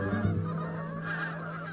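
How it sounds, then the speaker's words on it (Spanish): Canada geese honk in a short, close sequence of nasal calls, several overlapping honks within under two seconds over a quiet outdoor background. "las especies migratorias, como estos gansos canadienses, partirán hacia tierras más cálidas"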